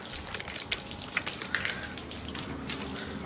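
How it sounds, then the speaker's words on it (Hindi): Water poured into a dug garden pit, a continuous splashing gush with scattered drips and gurgles, close and fairly loud throughout. "लो जी पानी डाल के आपको दिखाते हैं।"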